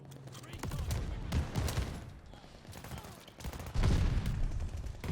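Rapid NZ-41 and shotgun fire in Call of Duty: Vanguard hardpoint multiplayer, bursts of shots cracking repeatedly over a few seconds, with a player talking over the action.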